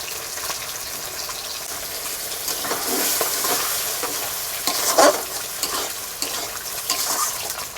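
Ground spices and tomato paste fry in a pan for a katla fish curry, a steady sizzling hiss with stirring scrapes and one sharper splatter burst midway, heard close with no speech.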